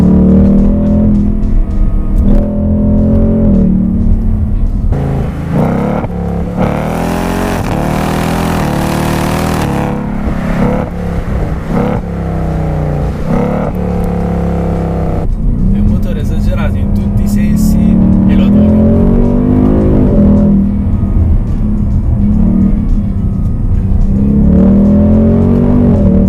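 A 2019 Ford Mustang with a 5.0 V8 drives along, its engine droning loudly and steadily with rises in pitch as it pulls, while someone talks over it for most of the time.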